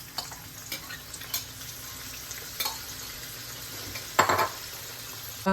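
Sliced onions fry in hot oil in a pan, giving a steady, soft sizzle that runs throughout. A few light clinks and a brief scrape of a utensil against the pan sound near the end.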